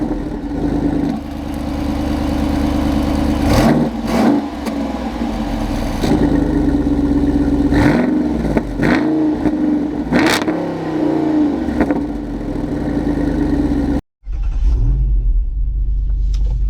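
A 2025 Jeep Wrangler Rubicon 392 V8 with its exhaust valves open, roaring loudly and close as it accelerates through several revving bursts and gear changes, then briefly cuts out and resumes.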